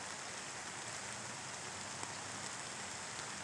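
Steady rain falls on a late afternoon during an all-day spell of on-and-off showers, a dense, even hiss with scattered drops, faint and continuous with no talk.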